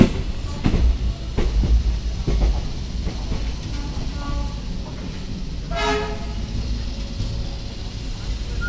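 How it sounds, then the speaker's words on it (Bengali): A train pulls out of Bardhaman station, heard from on board as a constant rumbling roll with a few rhythmic clanks early on and a short horn toot partway through. "ট্রেন ছেড়ে চলে যাচ্ছে বর্ধমান স্টেশন"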